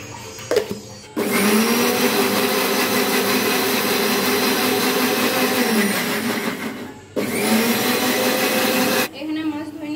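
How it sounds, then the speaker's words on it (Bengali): An electric blender grinds ginger, garlic and cumin in two long, loud, steady whirring runs separated by a brief pause, with a short clatter before the first run and quiet moments at the start and end. "দিয়ে এখন আমি এটা ব্লেন্ড করে নিব।"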